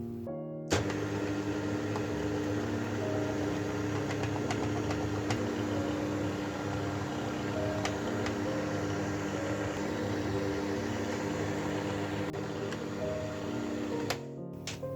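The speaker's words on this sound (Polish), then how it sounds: "I jeszcze przez chwilę miksujemy na wolnych obrotach, tylko do momentu połączenia się wszystkich składników." An electric mixer running at low speed through rhubarb cake batter, a steady close mechanical whir with light ticking that runs almost the whole way and stops near the end.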